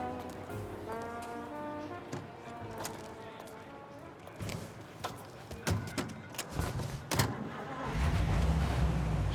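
Car engine from Mafia: Definitive Edition, a low steady hum that builds louder toward the end, with background music and brief bursts of ambient noise along the way.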